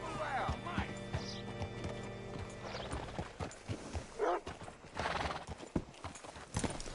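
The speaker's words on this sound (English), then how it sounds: "Hitch your horse up here." Horse hooves clip-clopping with a whinny in the Red Dead Redemption 2 video game, steady close hoofbeats slowing to a stop, with a short neigh and game dialogue around it.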